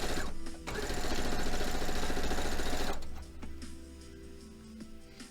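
A sewing machine stitches quilt block pieces for a retro-gaming quilt, running in a loud, steady fast whir for about three seconds before dropping to a quieter, intermittent hum with light mechanical ticks.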